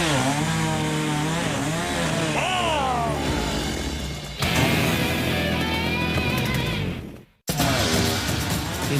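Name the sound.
chainsaw cutting into logs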